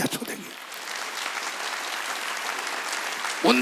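A church congregation at a Wednesday worship service breaks into sustained applause, a dense wash of many hands clapping together, with a voice cutting in briefly at the very start and again at the end.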